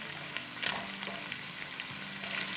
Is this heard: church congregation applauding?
no